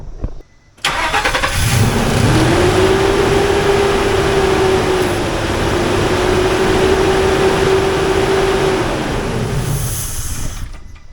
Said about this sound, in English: I'm gonna put the hoses back on, turn the car on, see what we got.